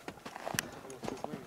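Horse hooves clip-clopping as a stallion is led around a yard in Câmpulung Moldovenesc, Bucovina, a few uneven hoof strikes close by while people talk.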